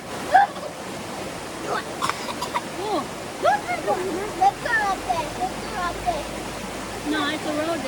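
Water rushes steadily in a rainforest creek at Finch Hatton Gorge, a constant nearby flow beneath the chatter of voices, including a child's.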